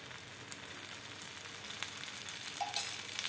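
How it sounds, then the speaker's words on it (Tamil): An oats dosa fries on a hot pan as sesame oil is poured around its edge, giving a faint, steady sizzle with soft crackles that grow slightly louder toward the end. "சுற்றி கொஞ்சம் எண்ணெய் ஊற்றிடலாம் நல்லெண்ணெய் ஊற்றிடலாம்"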